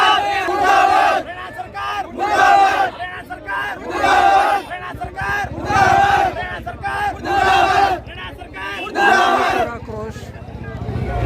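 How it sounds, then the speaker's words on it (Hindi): Women from a self-help group chanting rhythmic protest slogans against the Haryana government at a road blockade, loud crowd voices rising in repeated bursts roughly every two seconds, outdoors. "हरियाणा सरकार मुर्दाबाद के, हरियाणा प्रशासन मुर्दाबाद के नारे लगाए जा रहे हैं"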